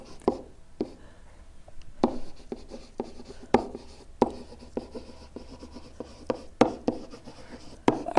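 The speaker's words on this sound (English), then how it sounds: "draw a rectangle" A pen or marker draws a rectangle around a polygon on paper, with a series of sharp scratchy strokes and taps at irregular intervals, close and fairly quiet, no talking.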